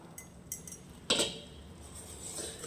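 A spoon clinks against a bowl while ground nut powder is stirred into milk for rasmalai, a few light taps followed by one sharper clink, close and clear with no talk.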